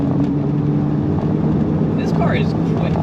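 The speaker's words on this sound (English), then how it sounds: "at speed, 56 miles an hour. The cabin, you know, you heard some road noise, tire noise, that glorious motor noise" Porsche 987 Cayman S with a 3.4-liter engine cruising at about 56 mph, a steady cabin drone of road and tire roar under a low engine hum, with a voice talking over it.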